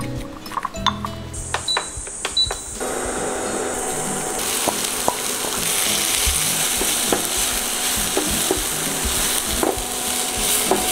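Seeni sambol, a Sri Lankan onion relish, frying and stirred in a pan, opening with scattered clinks and clatter before a dense sizzle takes over, broken by repeated sharp utensil taps against the pan, close and with no voices.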